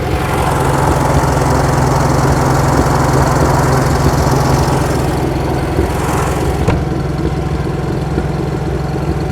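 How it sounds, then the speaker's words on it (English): A 1966 VW Fastback engine runs loud and close with a steady rough drone, then gives a sharp backfire pop partway through before the idle continues. "Man, you're backfiring a lot."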